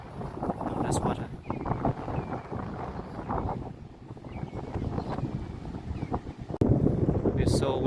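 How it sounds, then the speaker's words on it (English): Strong wind gusts roar and buffet across the microphone beside a river, a continuous rushing blast with a rise near the end, while people talk underneath. "It's so windy here."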